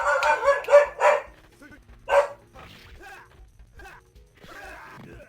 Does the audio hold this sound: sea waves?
no